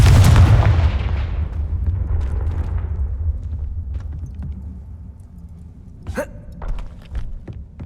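A Confringo fire spell blasts in the Hogwarts Legacy video game, a loud booming burst at the start that rumbles and fades over several seconds, followed by fainter sharp cracks later on.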